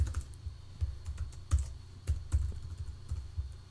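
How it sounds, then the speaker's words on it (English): Rapid, uneven clicking of computer keys, close and fairly loud, typing text into a typography program with no voices over it. "We'll type in here,"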